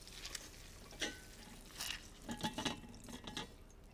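Cooked kale is squeezed by hand to press out excess water, giving soft, intermittent wet squelches and drips, faint and close, with no talking.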